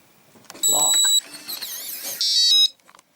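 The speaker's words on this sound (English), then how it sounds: "makes nice little beeps." Electronic beeps from an RVLOCK keyless entry door handle keypad on an RV door, with several short tonal chirps and a longer steady tone, heard loud and close between moments of handling noise.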